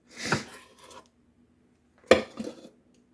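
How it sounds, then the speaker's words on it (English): Chopping onions with a large knife on a board: a couple of short knocking strokes, one near the start and another pair about two seconds later, close and fairly quiet with silence between. "I'm chopping them on my bigger blade"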